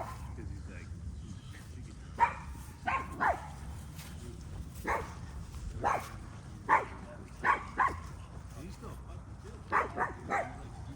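A black dog meeting a big white Pyrenees barks in short, spaced bursts about a dozen times on an outdoor hike, moderately near, with a person talking at times between barks.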